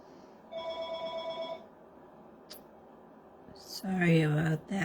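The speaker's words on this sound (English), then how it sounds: "Sorry about that phone." Telephone ringing indoors: a single warbling electronic ring burst, moderately loud, followed by quiet rustling and then a voice speaking.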